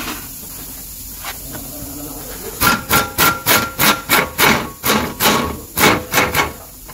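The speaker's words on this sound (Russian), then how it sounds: "сейчас буду откручивать шток и посмотрим, что из этого получится" During car suspension repair, a tool unscrews a shock absorber rod in about a dozen short, sharp, rattling bursts in quick succession, each loud and close, after a quieter stretch of workshop background.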